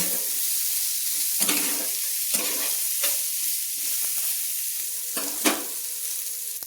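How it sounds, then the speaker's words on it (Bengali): Eggplant pieces with turmeric and salt frying in oil make a continuous loud sizzle, broken by repeated scrapes and knocks of a spatula stirring in the pan, close up and without talk. "আমি বেগুনগুলো দিয়ে হলুদ আর লবণ দিয়ে একটু বেগুনগুলো সুন্দর করে লাল লাল করে ভেজে নিচ্ছি।"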